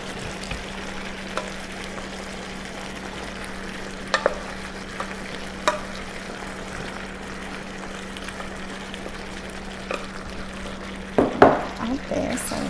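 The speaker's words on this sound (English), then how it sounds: "So I will add the vegetables into the meat." Vegetables tipped into cooked beef with thickened sauce for a sesame steak stir fry, giving a steady close sizzle with a low hum underneath, a few scattered clicks, and a louder clatter of stirring near the end.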